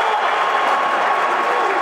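Arena crowd at a fight applauding and cheering in a dense, steady wash of clapping and voices, loud and continuous.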